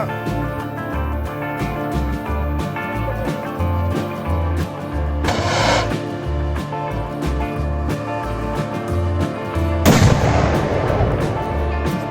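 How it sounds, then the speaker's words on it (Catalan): A cannon booms twice during the 2022 historical siege reenactment at Cardona, first a blast midway and then a louder, nearby one near the end, over steady rhythmic drumming. "a punt de disparar el canó, cuidado que ja va"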